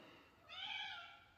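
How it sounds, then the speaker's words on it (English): A house cat gives a single drawn-out meow indoors, faint and slightly distant, rising and then fading over about a second with no talking. "Oh, that's my cat."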